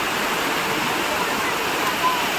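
Waterfall at Khopoli, a dense, steady roar of falling water heard close and loud without a break.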